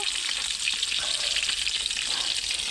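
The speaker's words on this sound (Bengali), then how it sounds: "প্রত্যেকটা মাছ ভেজে নেব" Fish sizzle steadily in hot oil in a pan while being fried for a Bengali fish kalia, a dense continuous crackle and hiss close up with no voices.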